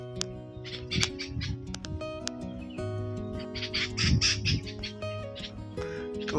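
A parent bird squawks and calls repeatedly near its fledgling, the harsh calls coming in bursts of varying loudness over steady background noise.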